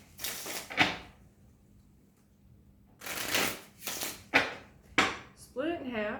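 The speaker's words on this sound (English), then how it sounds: "We shuffle all of these together" Crisp bursts of playing cards being shuffled, several quick riffles separated by pauses, close by, with a brief voice near the end.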